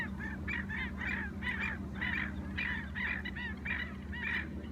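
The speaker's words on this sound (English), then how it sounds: "You can probably hear the blackneck stilt, the endemic and endangered IO, making a lot of racket next to us." Endemic, endangered black-necked stilts calling in a wetland at night, a loose flock of twenty or thirty birds giving repeated nasal yapping calls in rapid bursts, moderately near over a low background hum.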